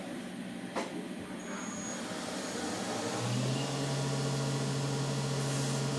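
Steady loud CNC machine whine with a rising drill tone as it drills screw holes in lock spacers, settling into a sustained high hum, with continuous mechanical noise throughout.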